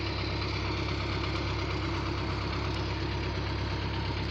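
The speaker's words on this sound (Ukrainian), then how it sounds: "Отак Таурус працює по ячменищу" A Taurus machine engine works across a barley field with a steady low droning hum and a faint mechanical knock, continuous and moderately distant, with no voices heard.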